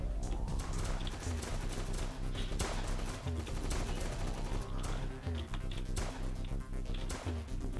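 Rapid pistol and gunfire exchanges in the heist shooter Roblox Notoriety, dense cracking shots in quick bursts over a steady game soundscape, loud and up close with no talking.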